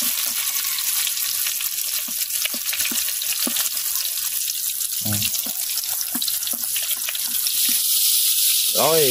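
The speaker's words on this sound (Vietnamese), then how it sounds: "Chiên nha, mình chiên nha." Pieces of duck fry in hot oil in a pan, with a steady loud hiss and crackle running throughout, punctuated by occasional clinks and light scraping while a person talks briefly.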